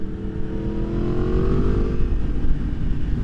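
A 2023 Yamaha MT-10 motorcycle fitted with a short Leo Vince slip-on exhaust rides along, its engine droning steadily and rising slightly in pitch midway. It stays loud and close throughout, with no talking.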